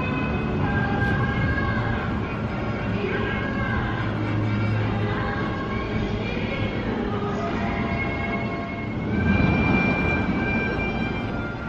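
Colossus roller coaster at Thorpe Park on an empty test run, giving a steady, continuous roar and rumble of cars along the track that swells slightly near the end, with no voices.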